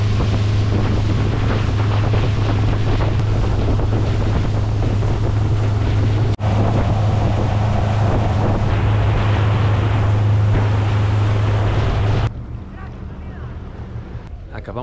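A motor launch crosses Lake Atitlán in Guatemala on a sunny day, its engine holding a steady low drone under heavy wind rush and water noise. The engine noise drops away abruptly near the end.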